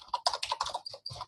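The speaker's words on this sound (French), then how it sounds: "Si je tape communication" Rapid typing on a computer keyboard while entering a search term in Workplace, a quick run of close, crisp key taps at an uneven rhythm with a short pause near the end.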